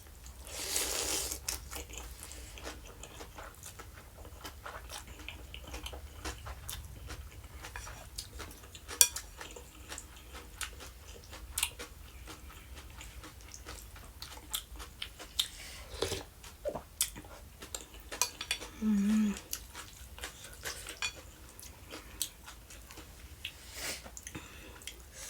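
Lao khao pun rice noodle soup being eaten, with spoons and cutlery clinking against a bowl and close, wet chewing throughout, steady and moderately quiet.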